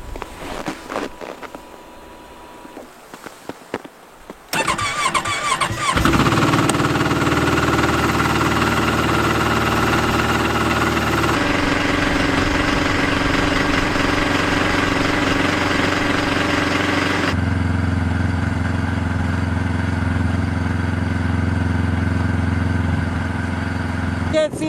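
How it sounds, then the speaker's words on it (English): Ski-Doo snowmobile engine starting after wind noise and then running steadily at a low, even idle, loud and close in a snowstorm. "I'm going to get the skidoo packed up"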